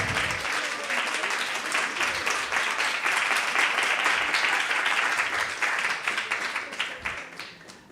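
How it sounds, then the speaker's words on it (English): An audience at a Krishna Katha gathering gives a big round of applause for devotees, dense, sustained clapping that swells and then tapers off toward the end. "Big hand of applause for all of these."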